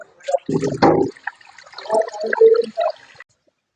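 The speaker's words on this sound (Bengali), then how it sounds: "পানিগুলো ভরে নিয়েছি কড়াইতে" Water being poured into a small cooking pan (karahi) to boil eggs, a burst of splashing and gurgling pouring followed by softer trickles and drips, close by in a kitchen.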